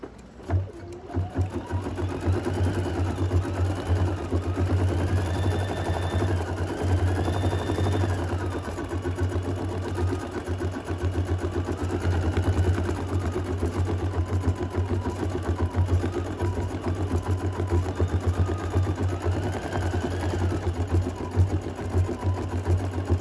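Embroidery machine stitching out a design on bath tissue, a steady fast mechanical hum and needle chatter running continuously and close up with no talking.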